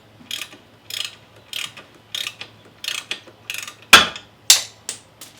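A ratchet wrench loosens the mounts of a pannier rack on a Royal Enfield Himalayan motorcycle, with a rhythmic series of short ratcheting bursts, close and clear, followed by two sharper metallic clacks.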